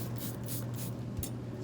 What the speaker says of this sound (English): It has a stream and then a spray.